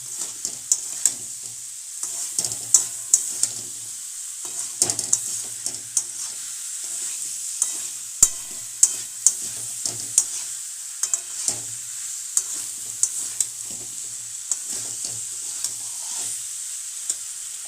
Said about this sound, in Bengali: এরপর আমরা এর মধ্যে আগে থেকে ভেজে রাখা আলু মিশিয়ে দিলাম